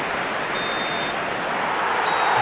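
A short electronic tone sounding the end of the first period in eFootball, heard as two faint high beeps over a steady roar of stadium crowd noise.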